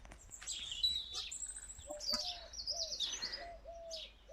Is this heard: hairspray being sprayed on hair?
no